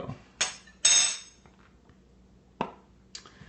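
Coffee being stirred in a Handybrew brewer: a few sharp clinks and brief scraping taps in two quick clusters, then a pause and two more clinks, close and clear against near silence.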